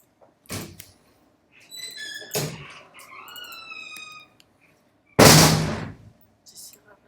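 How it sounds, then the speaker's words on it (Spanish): A door is shut hard with three loud, sharp thuds spaced a few seconds apart, and squeaky creaking tones between the first two. "Se cierra re fuerte. Cerrar la puerta."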